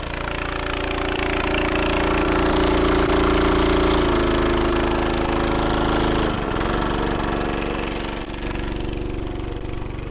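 A farm tractor engine idles steadily and loudly up close after being throttled down, its low, even drone dipping slightly in pitch partway through, with a hose leak present.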